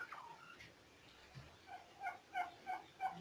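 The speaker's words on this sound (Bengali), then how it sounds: "এটা আমাদের সবচেয়ে ভালো টার্কি নর" Turkeys on a turkey farm in Rajshahi, including a tom, give a series of rapid, rattling gobbles, five or six calls in quick succession, faint and somewhat distant with no talking.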